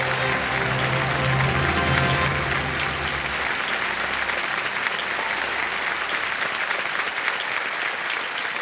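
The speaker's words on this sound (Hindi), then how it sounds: "अब बजाइए ताली" Studio audience of a television quiz show applauding a correct answer, a loud dense burst of clapping that holds steady and then tapers slightly toward the end.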